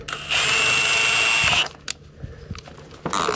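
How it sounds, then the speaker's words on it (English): A cordless power drill runs in a steady high whine for about a second and a half during an electrical panel upgrade, then stops, followed by a few clicks and light handling noises and a brief second burst. "Use your drill."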